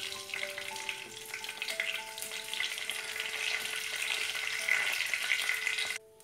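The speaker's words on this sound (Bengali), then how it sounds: "এবার জিরে আর তেজপাতাটা ভালো করে ভাজা হয়ে গেল।" Whole cumin seeds and two bay leaves sizzle steadily in a small amount of hot oil for a Bengali papad curry. A close, continuous frying hiss runs throughout and then cuts off abruptly at the end.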